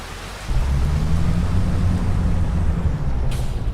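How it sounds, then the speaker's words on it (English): Heavy rain falls in Farming Simulator 25, a loud steady hiss with low rumbling that swells after a quiet start and continues without voices. "There's that much rain."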